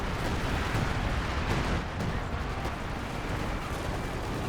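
Artillery barrage in the Company of Heroes strategy game, Soviet guns firing: a dense, loud, continuous roar of overlapping blasts and rumbling explosions with no pauses across the whole span.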